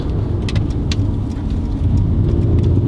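A Mercedes C400 4MATIC in Sport Plus accelerates hard from inside the cabin, a deep, loud engine rumble with brief crisp clicks as the gears shift up, steady and close with no speech.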